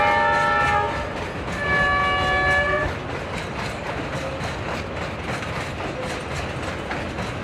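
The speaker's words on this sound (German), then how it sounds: "Niemand darf den Bahnsteig betreten, bevor der Zug nach Urumqi einfährt" A train pulling into Dunhuang railway station in China's far west sounds its horn in long sustained tones, then the rolling rumble and rhythmic clickety-clack of the cars continue loudly and steadily, with no voices.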